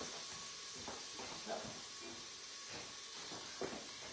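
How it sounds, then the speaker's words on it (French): Small shallots sautéing on an All-Clad grill, a steady, close sizzle and hiss with faint crackles and soft pops scattered throughout, fairly quiet and with no talking. "Allez, on fait revenir nos petites échalotes."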